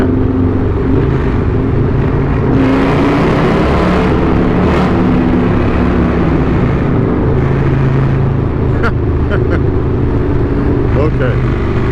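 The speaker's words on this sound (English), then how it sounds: "who is that back there revving it up, making noise?" Loud, steady roar of vehicle engines echoing inside a road tunnel about a mile long, a dense continuous rumble with engines revving behind, while voices talk over the din.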